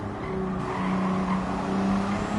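Nissan race car engine in a racing video game revving hard under a sustained tire squeal as it slides through a corner, loud and close for a couple of seconds with no talk.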